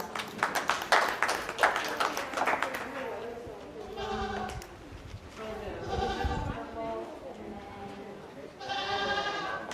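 A short burst of clapping from spectators at a county 4-H livestock show, fading after a few seconds as sheep or goats bleat repeatedly nearby and an announcer talks over the pen noise.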